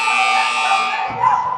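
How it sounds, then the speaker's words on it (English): A loud, steady electronic buzzer blares at a boys' high school basketball game in a gym, holding for over a second before cutting off as faint crowd noise rises underneath. "The buzzer sounds as the players will return to the floor."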